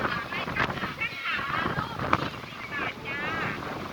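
Strong gusty wind at Pa Sak dam in Thailand buffets the microphone with a steady roar and rumble, alongside lapping water, while people talk through most of it.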